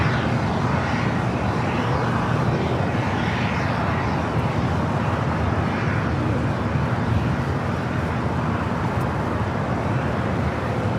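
An airliner taxiing at Los Angeles airport gives off a continuous, loud engine roar with a low rumble, holding steady and close without voices.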